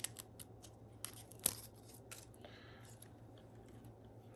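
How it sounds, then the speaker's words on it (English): Mounting tape is pulled and pressed onto an Opal ice maker pump, giving a few quiet, sharp snips and crackles with one louder tearing snap in a hushed room. "I'm just putting some mounting tape on here."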